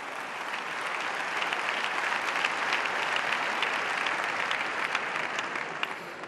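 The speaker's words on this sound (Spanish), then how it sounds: "Por eso voy a pedir hoy aquí un gran aplauso para Cuca y Esteban" Sustained audience applause at a political party event in Spain, a dense steady roar of clapping from a large crowd that holds evenly throughout.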